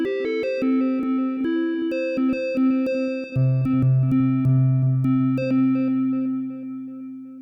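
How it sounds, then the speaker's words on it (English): A Syntakt synthesizer plays sustained chords and plucked notes, each tail washed in reverb with echoing delay repeats, shifting to a lower sustained tone midway. "also add a bit of reverb and delay here."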